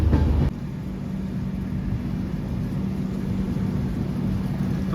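The Kanchankanya Express rolls out of the Sealdah car shed with a steady low rumble of rails and carriages, heard from on board, continuous and moderately loud.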